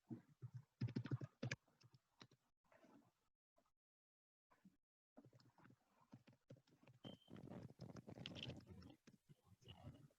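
Clicks of typing on a computer keyboard during an online presentation about overseas fellowships, quick key taps in short bursts, close and fairly faint, with a gap of silence in the middle.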